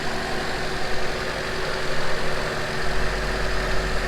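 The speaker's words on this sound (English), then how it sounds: "Alright guys, so it's running pretty good." A Honda CRX engine idles steadily after a throttle body swap, giving an even, continuous mechanical hum and rumble close by with no voices.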